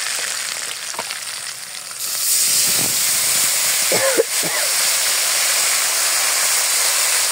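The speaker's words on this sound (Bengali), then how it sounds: "মশলাটা এখন ভালোভাবে কষিয়ে নিব" Spice paste of garlic, cumin, onion, green chili, salt and turmeric frying in a pan for village-style koi fish curry, a steady loud sizzle that grows stronger partway through, with a few scraping stirs.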